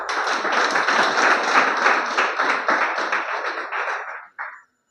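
An audience applauds an anchor at an Indian health-plan event with steady, dense clapping, loud and close, that tapers off at the end with one final short burst.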